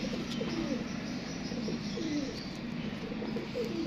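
Pigeons coo softly in low, repeated rolling calls, with occasional faint chirps and a rustle of wings in the background.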